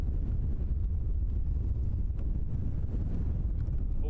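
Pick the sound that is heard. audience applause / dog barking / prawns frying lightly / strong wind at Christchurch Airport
strong wind at Christchurch Airport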